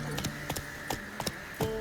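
Hoofbeats of Roach, Geralt's horse in The Witcher 3, come as a few uneven, fairly close clops over a steady game ambience, sparse and irregular rather than a sustained gallop.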